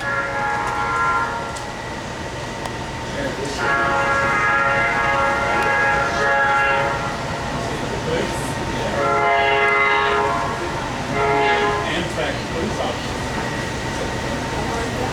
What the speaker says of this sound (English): now everyone's favorite horn, the Nathan K5LA